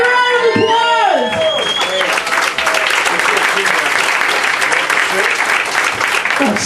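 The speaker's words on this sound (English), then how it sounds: "Big round of applause" Dense applause from a roast audience swells in after a few spoken words and carries on steadily and loudly to the end, with scattered cheers mixed in.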